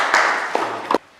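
Brief group clapping in a classroom for a student during a group guidance session, a short burst of claps that fades after about a second.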